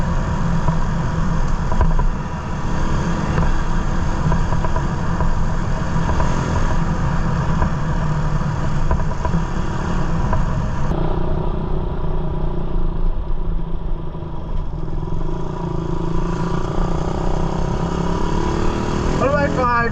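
A Raider 150 motorcycle with a freshly cleaned carburetor runs steadily close by, a loud continuous engine drone with rattly clatter that shifts in tone midway as it rides on.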